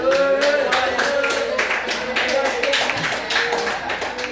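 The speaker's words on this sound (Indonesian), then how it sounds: "Kasih tepuk tangan untuk Bapak ya." A group claps together in a fast, steady burst of applause, loud and close, lasting the whole stretch.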